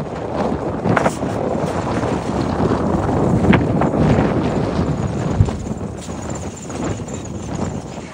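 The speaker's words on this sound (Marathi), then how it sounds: "वारा असलं जोरात येते ना." Strong wind blows across a high rooftop of a tall house, buffeting the microphone in loud, gusty rushes that swell and fade, with a few sharper bumps and knocks in between.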